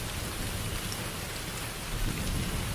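Steady, heavy rain pours without a break while low thunder rumbles underneath, a dense, continuous storm sound effect close and loud throughout.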